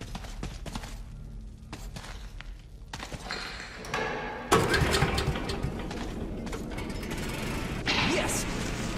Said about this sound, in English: Let's hope the elevator works all right.